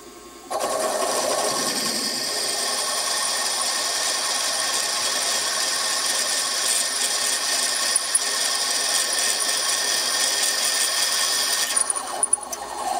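Drill bit boring a 7.6 mm pilot hole for a reamer during a Stuart Models S50 engine build: a steady, even whirring hum that holds for about eleven seconds, then stops.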